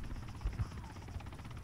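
A helicopter in the military video game ArmA 3 flies over at a distance, a low steady rotor thrum with faint chopping pulses, fairly quiet and continuous.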